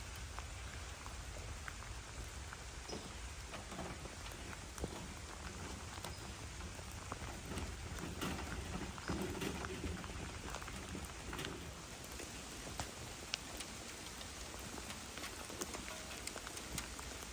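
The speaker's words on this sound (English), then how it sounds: "It's starting to rain pretty hard now" Hard rain falling outdoors at a rural hideaway, a dense, steady patter and hiss with scattered sharper drops, fairly faint and continuous, with no talking.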